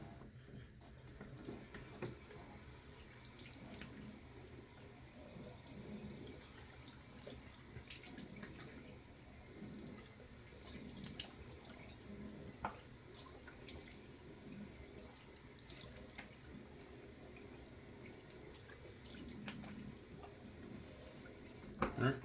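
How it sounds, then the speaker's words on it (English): Cold tap water runs steadily for rinsing off after a shave, a faint continuous splashing hiss with scattered splatters and handling noises, while someone talks intermittently. "rinsing off with cold water."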